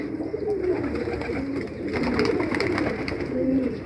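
Deobandi fancy pigeons, Feeke and Baajre breeds, coo steadily in overlapping low throaty calls, several birds close by with a constant murmur of cooing throughout.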